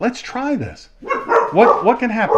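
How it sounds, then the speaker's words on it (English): A dog barks and yips at someone coming home, several close, pitched barks in short bursts, mixed with someone talking over them. "That's my dog checking out my son, making sure he's not a burglar or a robber."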